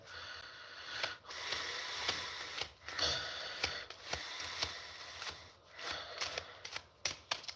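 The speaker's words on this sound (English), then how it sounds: "You can see I'm shuffling up the cards" Playing cards are shuffled by hand, with bursts of quick riffling and flicking at close range, broken by short pauses and sharp snaps.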